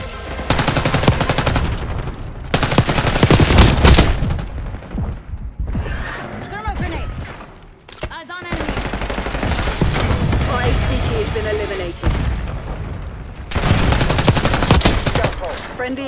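Sustained automatic gunfire roars through Call of Duty: Black Ops 6 multiplayer on the Babylon map, loud bursts broken by short lulls, while game voice lines talk over the action.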